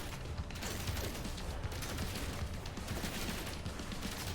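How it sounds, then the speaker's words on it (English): Rapid gunfire from shooting at charging enemies in No Man's Sky, a dense, steady stream of mechanical bursts that runs continuously at an even level with no speech. "Conveniently, I can just shoot at them as they come forward."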